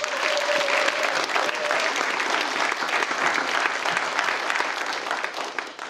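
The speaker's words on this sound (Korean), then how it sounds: "교수님 박수 한번 쳐드립니다" Warm applause for professor Yang Eun-mi at a 2022 nursing Nightingale pledge ceremony, a large hall full of steady, dense clapping that holds evenly throughout and tapers slightly at the end, with a faint tone early on.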